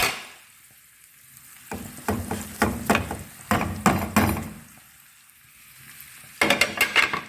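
Diced chicken breast frying in a pan with softened vegetables, a steady close sizzle broken by repeated bursts of clattering stirring, quiet gaps between the bursts.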